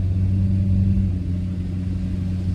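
A 1999 Subaru Sambar Dias II kei van drives along, its small engine humming a steady low drone with road rumble heard from inside the cabin, loud and continuous with no talking.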